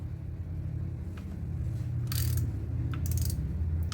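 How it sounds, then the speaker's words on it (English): A 10 mm socket on a ratchet loosens valve cover bolts on a 2005 Chevy Aveo 1.6L E-Tech II, giving short bursts of quick ratchet clicking over a low background rumble. "Now using our 10 mil socket, we're going to go ahead and take off the remaining bolts from the valve cover."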